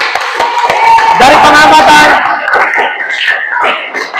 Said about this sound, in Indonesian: Oke, jadi tepuk tangan dulu untuk kalian semua.